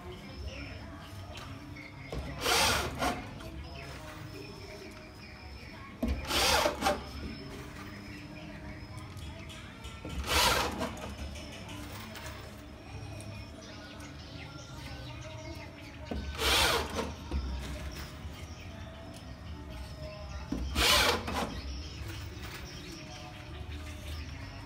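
A power drill drives screws into a plasterboard ceiling frame, giving five short whirring bursts spaced several seconds apart over a low background hum with faint ambient noise.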